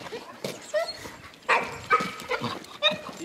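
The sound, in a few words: dogs chasing a wood rat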